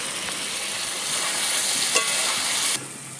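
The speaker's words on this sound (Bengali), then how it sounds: "সব মশলাটাকে এবার আমি ভালোভাবে কষাবো।" Spices sauté with fried potato and pointed gourd in a pan over a wood-fired clay stove, a loud close sizzle with stirring scrapes that cuts off abruptly near the end.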